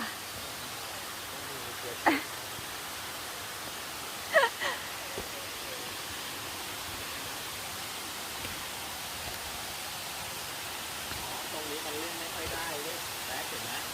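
Steady broadband rush of a tall waterfall at Tat Moei on Doi Khun Tan, a continuous even roar with a couple of brief faint voice sounds over it.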